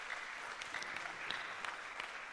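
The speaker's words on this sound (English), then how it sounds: "We can give them a clap." A small audience at an economics debate claps for the lecturers, a faint, steady patter of hands from a distance.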